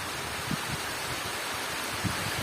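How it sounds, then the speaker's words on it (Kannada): Heavy rain pours steadily outdoors, a dense, even broadband rush with a few low thuds, no speech. "ಮಳೆ ಜೋರು ಶುರುವಾಗಿದೆ."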